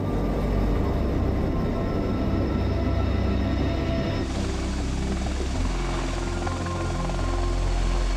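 A CH-53E Stallion military helicopter roars loudly and continuously nearby during a fast-roping demonstration, its dense rotor and engine noise filling the whole stretch with no voices audible.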